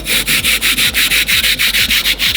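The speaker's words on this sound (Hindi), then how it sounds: "गड्ढा बनाने के लिए मैंने यहाँ पे आरी ले ली और इसमें गड्ढा बना लेते हैं" A hand saw cutting a groove in wood makes rapid, even back-and-forth rasping strokes, about six per second, loud and close with no voices.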